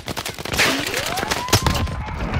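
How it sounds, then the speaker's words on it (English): Gunfire in Call of Duty: Modern Warfare, a dense run of sharp shots and rattling bursts close by in a busy firefight, with a faint whistling tone sweeping through partway. "Fuck, I'm getting shot."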